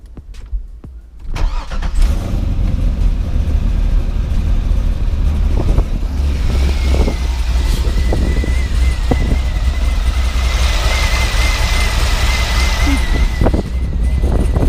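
A C5 Corvette fires up after a spark plug change: a short starter crank, then the engine catches and settles into a loud, steady rumbling idle nearby, with wind buffeting throughout.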